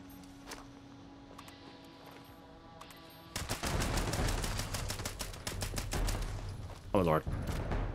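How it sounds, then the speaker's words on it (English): Gunfire in Fallout 76 aimed at an angler creature: after a quiet stretch of faint game ambience, a rapid burst of loud automatic shots rattles on for several seconds, with a brief squeal near the end. "I'm going to shoot this angler in the face"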